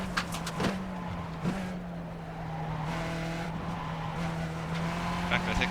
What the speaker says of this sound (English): I think the tires may be a little bit too hot now because they're starting to slide a little bit more than they were.